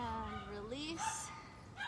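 A dog yips and whimpers close by in a quiet room, a few rising high-pitched whines and short yelps alone without talk.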